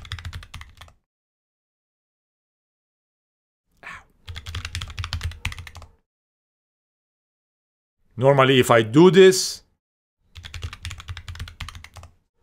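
Typing on a computer keyboard in the Warp terminal emulator while connecting over SSH to a remote server, with bursts of key clicks separated by pauses, close and clear, and someone speaking briefly between them.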